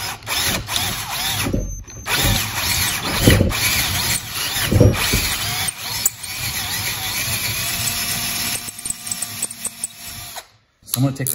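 A drill bores out the oil feed passage in a Buick V6/small block V8 timing cover to 9/16 inch, whirring in bursts with stops and restarts across the clip, with talk over it.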